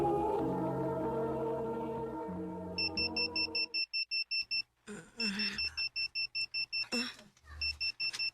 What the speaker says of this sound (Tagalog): Ni-alarm naman di ay.